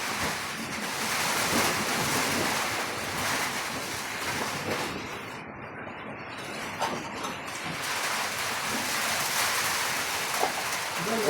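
Very strong wind from Typhoon Uwan, a loud, broad roar with a rain-like hiss that surges and eases slightly before building again.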